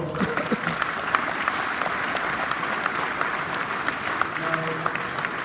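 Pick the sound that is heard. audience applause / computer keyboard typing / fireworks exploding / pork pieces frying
audience applause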